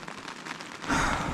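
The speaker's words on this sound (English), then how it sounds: "Update, it is raining." Rain patters steadily on a tent during solo bushcraft camping at night, a close, dense hiss that swells louder near the end, with no speech.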